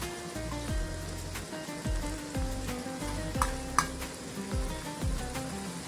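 Chicken with dill leaves sizzles and fries in a pan while being stirred, giving a steady close hiss with repeated scraping strokes and occasional clinks of a utensil, and no talking.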